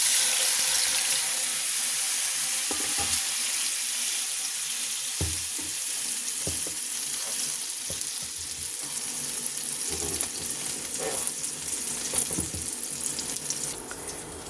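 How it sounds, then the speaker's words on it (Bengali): Spice water poured into a pan of soybean kofta curry sizzles and bubbles in a steady, moderately loud hiss, with faint stirring and clinks of utensils. "তো এই মশলার জলটা দিয়ে দিলাম।"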